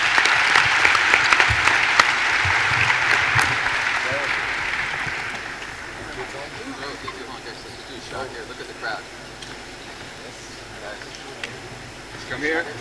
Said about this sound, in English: Can we have one more round of applause while they do their selfie, please?